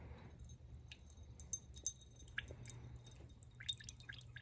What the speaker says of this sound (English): I'm just going to use this container to pour off the excess water